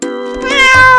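A cat gives one loud, close meow, rising and stretched, about a second long and heard alone.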